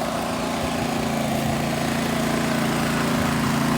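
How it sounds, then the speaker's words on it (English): A generator runs steadily outdoors after tree cutting, a continuous droning engine hum with a strong low buzz that holds even and loud throughout without any pauses. "Sorry about the generator noise."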